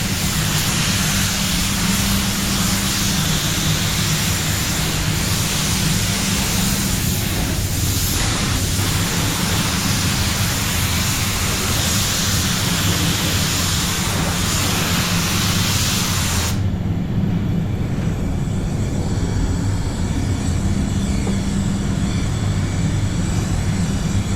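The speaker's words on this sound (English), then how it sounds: "Lower the pressure on the second coat and pump it on." Steady, loud hiss of a spray gun applying clear coat to a gunmetal grey Nissan Patrol bonnet, running continuously and then dropping to a softer, duller spray near the end.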